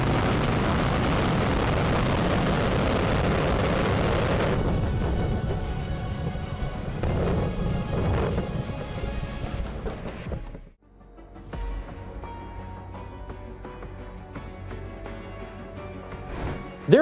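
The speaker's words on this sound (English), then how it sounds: "Just 14 seconds after liftoff, the fuel tanks detonated, destroying the rocket." Rocket fuel tanks exploding shortly after liftoff in a failed October 2014 launch: a heavy, roaring blast rumble that fades into a distant, hollow aftermath with a brief dip and some later crackling.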